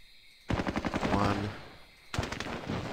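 Bursts of automatic gunfire from a fire team in the Vietnam-era tactical game Squad Battles: Tour of Duty, two rapid rattling volleys separated by a short gap, loud and close with no talk.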